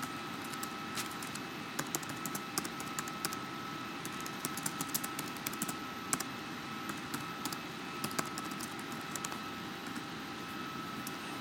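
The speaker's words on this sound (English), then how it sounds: "Hit the caps key so that every letter you type will be in caps." Quiet keyboard typing with caps lock on, a steady patter of light clicks over a constant faint hum in the background.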